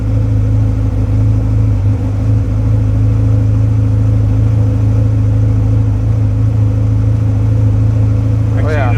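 A Ferrari F40 engine idles steadily with a low, even drone held throughout, a slightly uneven right bank under tuning, with faint talk over it and a brief higher sound near the end.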